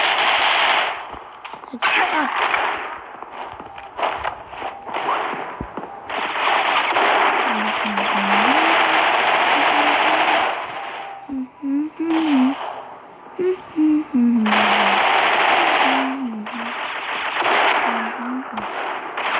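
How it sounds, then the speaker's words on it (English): Long bursts of machine gun fire in the mobile shooter Critical Ops, loud and close, in several separate rattling stretches with brief gaps, while a voice gives a quick word and sounds over it. "Machine guns."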